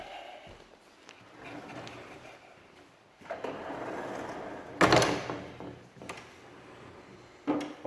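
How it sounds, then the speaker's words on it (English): Small wooden pocket doors on a house's first floor slide along their track and bump closed, producing rumbling rolls and a sharper knock near the middle and another at the end, close and fairly loud with no talk. "These little pocket doors."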